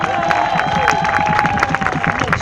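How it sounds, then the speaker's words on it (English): An audience applauds a speaker at a fitness motivation talk: dense, even clapping fills the room throughout, with a sustained tonal hum underneath and no clear speech. "Give her a big round of applause."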